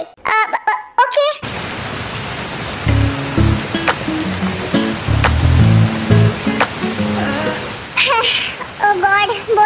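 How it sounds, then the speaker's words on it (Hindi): Heavy rain pouring: a steady, loud wash of downpour carries through the clip, with brief voices at the start and end and music-like tones in the middle. "ओह गॉड, बहुत ज्यादा बारिश हो रही है।"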